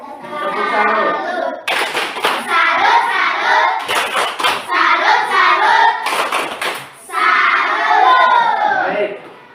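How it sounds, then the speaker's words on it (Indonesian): A school class performs a rhythmic 'tepuk salut' clap for a discussion group, bursts of loud unison clapping in patterned sets alternating with children's chanting voices, close and energetic. "Kita berikan tepuk salut buat kelompok 1."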